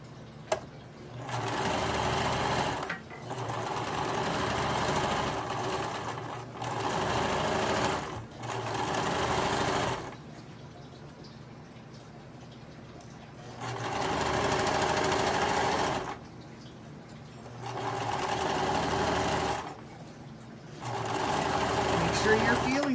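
Sewing machine stitching through two layers of fabric for a book bag, running in several loud bursts of rapid mechanical whirring separated by short pauses, with a person talking between runs.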